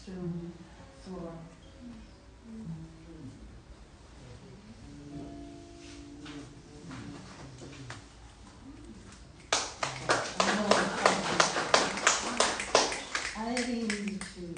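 Audience applause after a poetry reading erupts abruptly and loudly, a dense burst of many hands clapping close by that follows a stretch of spoken voice and keeps going to the end.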